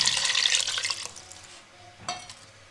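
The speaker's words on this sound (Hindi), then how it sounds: "अब इसमें हम 1 कप पानी शामिल कर देंगे।" A cup of water splashes into sizzling masala in a pan while cooking a potato dish, a brief loud hiss and spatter followed by quieter stirring and a short scrape.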